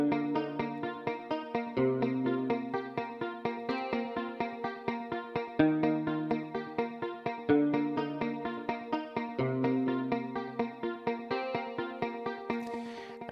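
A guitar plays a part from a song through effects, sounding as a tight, steady stream of quick picked notes that repeat in even patterns, washed with echo, chorus and reverb, with no talking.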